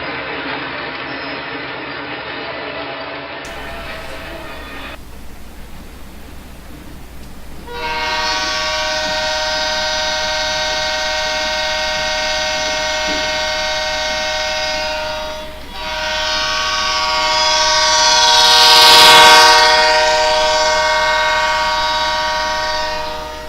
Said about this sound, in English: We are watching Penn Central train KM13, Kingsport to Mayfield, roll through West Mill.